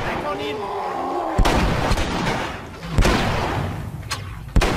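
Blasts from a thrown nail bomb and gunfire in The Last of Us, three sharp loud booms spaced over a few seconds, with a voice talking at the start.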